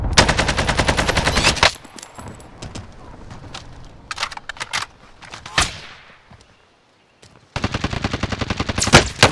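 Rapid automatic gunfire in a Warzone battle royale match, loud, close bursts of rattling shots at the start and end, with scattered single shots and quieter distant fire in between.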